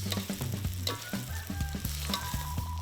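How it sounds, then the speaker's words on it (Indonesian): Vegetables and petai are stir-fried with shallot, garlic and chili, a continuous close sizzle with steady scraping and stirring over background music. "sayuran serta petai pun dimatangkan atau ditumis hingga sedikit layu bersama bumbu rempah sederhana"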